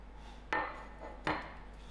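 Chocolate pieces dropped into brownie batter in a bowl, two distinct soft thuds with a brief clatter, each fading quickly, close and alone.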